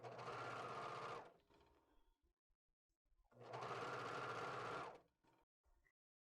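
A serger sewing machine stitching around a T-shirt armhole, heard in two steady, loud runs of about a second each, separated by a pause with faint handling clicks, then a brief final burst.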